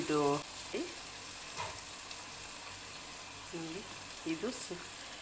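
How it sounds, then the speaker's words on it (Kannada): Onions frying in a pan for a mutton liver dish, a steady soft sizzle running throughout, with short bursts of someone talking at several points above the cooking. "ಈರುಳ್ಳಿ ಫ್ರೈ ಆಗ್ತಾ ಇದೆ."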